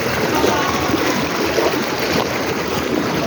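Floodwater rushes through a road junction in Cainta, Rizal, a steady broadband roar of flowing water filling the whole stretch at constant loudness, with no talk over it.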